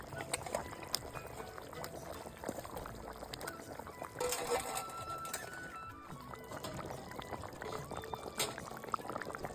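Fish goes into a simmering fish curry, heard as faint, steady bubbling with a brief splash and sputter partway through, quiet and close with no talking.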